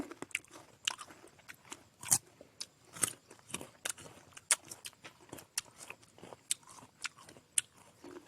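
Crisp, repeated crunching bites and chewing of firm Kimju guava dipped in chili salt, close to the mic, with irregular sharp crunches spaced every second or so and no talking.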